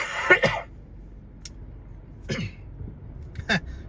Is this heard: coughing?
yes